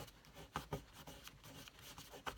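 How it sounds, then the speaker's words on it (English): Sticky tape residue is rubbed off with an embossing buddy in soft, close scuffing strokes, a few brief rasping rubs over a quiet background. "take your embossing buddy and just get the stickiness off of it"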